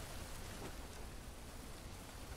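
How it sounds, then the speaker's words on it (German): Jungle rain in the survival video game Green Hell is a constant, even, quiet wash of rainfall noise with a faint low rumble underneath, no other sounds breaking through. "Das regnet hier in sehr gleichmäßigen Abständen."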